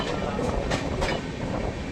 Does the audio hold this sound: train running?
yes